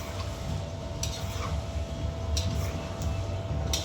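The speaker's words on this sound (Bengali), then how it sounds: "ফাটিয়ে রাখা যে দইটা এটা এর মধ্যে অ্যাড করে দেব, দিয়ে হালকা হালকা আছে আমি এটাকে নাড়তে থাকি" Yogurt is stirred into chicken curry in a pan on the stove, giving a steady low sizzle with a few soft clicks of the spoon against the pan.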